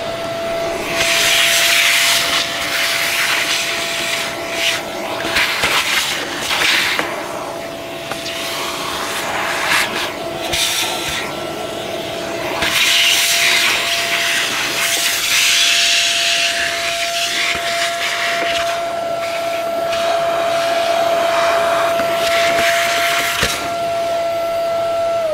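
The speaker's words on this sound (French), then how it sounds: "on va y mettre un petit coup d'aspirateur" A vacuum cleaner whines steadily nearby, its airflow surging and dipping as it moves, with a thin high tone running throughout.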